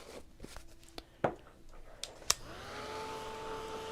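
Hair dryer blowing over matte medium on a mixed media morning glory craft project, starting after a few taps and clicks and then running steadily and fairly loud to the end, with no talking.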